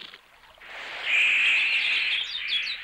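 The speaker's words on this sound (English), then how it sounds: "Why are the birds leaving?" Birds chirp in a dense, high twittering chorus that swells after a quiet start and stays bright and fairly close, with no voices over it.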